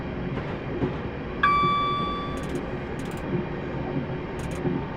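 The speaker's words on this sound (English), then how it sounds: "I've now got the brakes on for our stop at Tamworth" A train in Train Simulator 2018 brakes for its stop at Tamworth, its steady rumble running under a brief tonal squeal and a few soft clicks.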